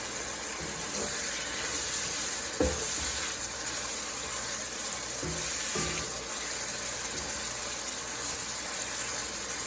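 Beef and broccoli stir fry sizzles steadily in a pan, a continuous broadband hiss with a few brief louder clicks and stirs, close and fairly loud, with no talking.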